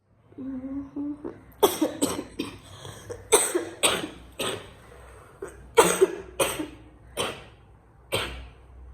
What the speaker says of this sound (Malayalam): ഇതാണിപ്പോൾ കുറച്ച് ദിവസമായിട്ടുള്ള ഒരു പ്രശ്നം ചുമ കഫക്കെട്ട് ഭയങ്കരമായിട്ടുണ്ട്